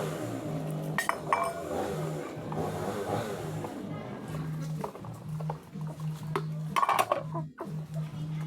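Dishes, pots and cutlery being washed by hand, with frequent clinks and clatters of metal and crockery over a steady mechanical drone in the background.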